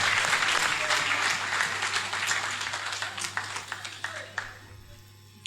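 A crowd at a party congress applauds steadily, dense clapping that gradually thins and fades out toward the end with a few last scattered claps.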